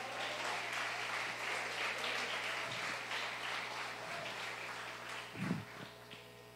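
A church congregation applauding in worship, a steady patter of clapping from many hands, fairly faint, over sustained background music.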